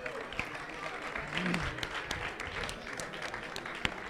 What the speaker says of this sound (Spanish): Fuerte aplauso también para Wally